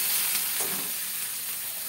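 Food frying in a pan during home cooking, a steady broadband sizzle holding at an even level throughout with no talk over it.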